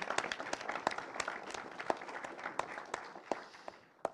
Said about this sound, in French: On peut vous applaudir quand même.